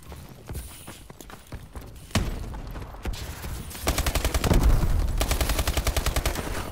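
Automatic gunfire in a Call of Duty: Advanced Warfare Search and Destroy match, starting as scattered shots and building into a loud, rapid burst of evenly spaced rounds that runs to the end.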